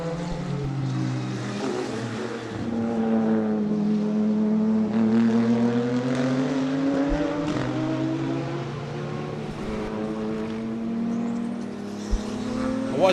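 Race cars, including a Porsche and a BMW Z4, roar around a track during an Extreme SuperCars race. Their engines drone loudly and continuously, with pitch rising and falling as they pass.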